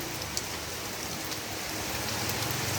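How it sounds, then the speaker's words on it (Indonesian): Heavy rain falling outdoors, a dense, constant hiss of drops on surfaces with a few sharper drip taps, loud and unbroken throughout with no talking. "Hujan lebat sekali, empingnya basah."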